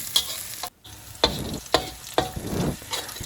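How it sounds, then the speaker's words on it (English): Garlic frying in a pan for a brinjal and minced pork stir-fry, a loud close sizzle with four or five quick scraping stirs of the spatula and a brief gap, no speech. "Fry it till garlic turn brown."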